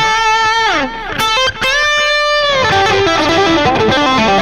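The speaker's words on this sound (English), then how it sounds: "Tape echo, turn it on." Electric guitar played through a tape echo effect on a Headrush MX5 processor, loud sustained notes and chords with repeating echoes trailing each phrase, a brief gap before a busier run of notes.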